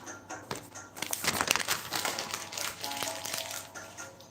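Tarot cards being shuffled by hand indoors, a close, papery crinkling and riffling that builds after a soft start and continues unevenly, with no talking.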